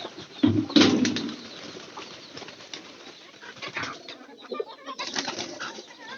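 Pigeons coo in low, throaty rolls while wings flap and flutter in brief bursts, with rustling and clattering in the loft, close by and fairly busy throughout.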